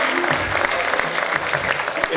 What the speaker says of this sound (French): Un tonnerre d'applaudissements, s'il vous plaît, pour Dorian Lutterer.